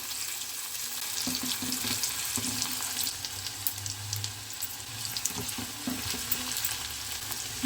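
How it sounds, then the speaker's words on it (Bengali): Onions frying in a pan over a high flame for methi saag, giving a steady close sizzle, with scattered clinks and stirring scrapes on top and no talking. "এবারে আমরা পেঁয়াজটা দিয়ে দিচ্ছি। ফ্লেম কিন্তু হাই আছে আমাদের।"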